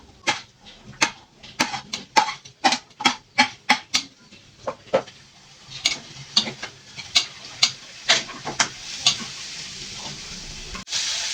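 Sliced string beans sautéing in a pan, a run of sharp stirring clatters and bursts of sizzle, steady and close, with no voices.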